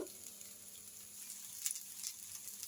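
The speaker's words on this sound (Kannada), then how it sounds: "ಮತ್ತಿ ಮೀನು ಫ್ರೈ ಆಗ್ತಾ ಇದೆ" Matti fish, sardines, fry in a pan over a low flame, a faint, even sizzle with a few soft pops, heard close but quiet.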